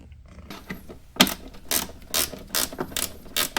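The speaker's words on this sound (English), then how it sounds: "We have to tighten these 2 bolts here that's holding the tube to the body of the casing or the box." A ratchet tightens the bolts holding the tube to the airbox of an aFe cold air intake on a BMW N52 engine, giving quick close clicking bursts in a regular rhythm after a brief quiet start, with no talk.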